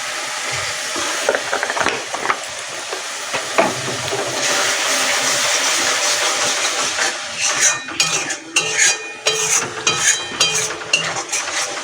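Spices stirred and fried in a pan for egg palong, a sizzling hiss with scraping and clinking of a spoon against the pan, irregular strokes growing busier toward the end.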